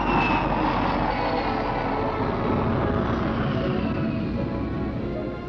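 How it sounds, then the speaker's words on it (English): A Vickers Super VC-10 airliner climbs after takeoff, its jet engines giving a loud, steady roar with a high whine that slowly fades as it pulls away, alone without voices. "Now that it's airborne, the Super VC-10 must be put through test after exhaustive test"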